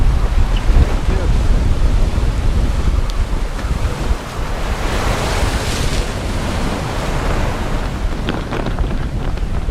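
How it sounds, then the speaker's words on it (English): Big waves surging and crashing around a sailboat crossing the North Sea in winter, with strong wind buffeting the microphone in a loud, continuous roar throughout. "Oh, wow, some big waves there."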